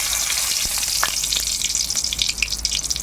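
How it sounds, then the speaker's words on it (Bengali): Two dried red chillies crackle in hot oil in a wok, tempering the oil for an egg and potato curry. A loud, steady, close sizzle with a few sharp pops, and no voices. "ফোড়নে দুটো শুকনো লঙ্কা দিয়ে দিলাম"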